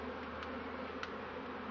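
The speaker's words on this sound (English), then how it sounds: "that's a lot of bees" A steady, dense buzzing of many bees fills the scene, a continuous droning hum with no voices.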